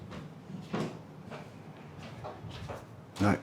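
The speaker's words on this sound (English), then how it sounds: "That's the sound of a door. And the door just closed." A door closing in an old house, a muffled thud near the end after faint shuffling and creaks, moderately close, with no talking.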